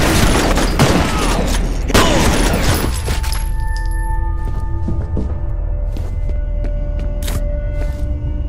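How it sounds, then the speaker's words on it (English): A grenade blast in the video game FEAR, with heavy bursts and a booming crash in the first few seconds that give way to a ringing, humming tone and scattered debris sounds. "Fire in the hole! Watch out! Grenade!"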